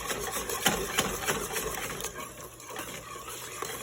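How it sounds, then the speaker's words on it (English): A whisk works sugar into tembleque mixture in a bowl, giving quick rhythmic scraping strokes that are louder at first and then ease into softer, steady swishing. "So I'm going to whisk it again."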